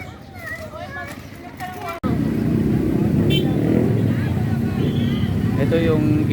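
A motorcycle rides past on a road beside a river, swelling loud and close after a sharp onset and holding as a steady engine roar, with a voice speaking faintly at the start.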